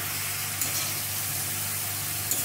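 Water poured into a sizzling jackfruit and prawn curry gives a steady, close frying hiss that holds evenly throughout, with two faint spits.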